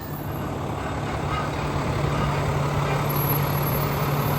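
A classic pickup truck engine rumbles steadily up close, a low constant drone with a faint hum, as the truck creeps slowly toward the curb to park.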